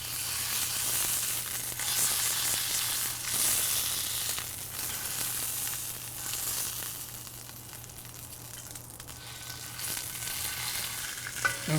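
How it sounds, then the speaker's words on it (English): Ribeye steak edges searing in a hot pan for a Szechuan-pepper dish, a steady broad sizzle holding close and even throughout with no talking. "Now we're going to go ahead and just sear off the edges a little bit."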